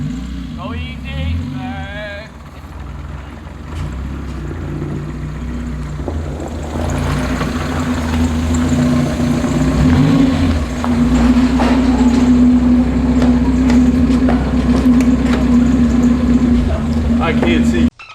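Mazda Miata engine running steadily while towing a Corvette, a loud low drone with a constant hum that grows stronger and steadier after the first few seconds, with people talking over it.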